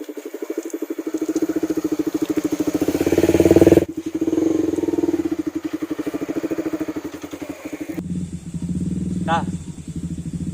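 A motorcycle engine idles with a steady low throb throughout, under continuous nearby talk, with a brief rise in revs partway through.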